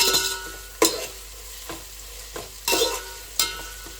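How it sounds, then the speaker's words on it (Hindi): Onions fry in a large biryani pot with a constant sizzle. A spoon stirs and scrapes against the pot in several sharp, repeated bursts, and no one speaks. "प्याज को हमें फ्राई करना है जब तक कि गोल्डन ब्राउन कलर का ना हो जाए"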